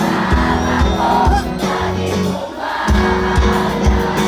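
A loud crowd at a town fiesta shouts and whoops together over a dense, steady background, with bursts of yelling rising and falling throughout.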